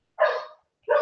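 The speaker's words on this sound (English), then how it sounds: "One of my dogs is outside. He's barking at." Two sharp barks from a boxer dog outside, short and loud, spaced about half a second apart.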